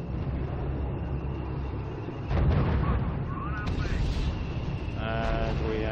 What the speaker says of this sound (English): The field artillery battalion is opening fire.